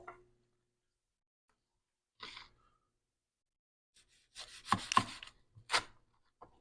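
A knife cuts through an omelet quesadilla on a board: a few sparse soft taps, then a cluster of sharp chopping strikes near the end, close and otherwise quiet.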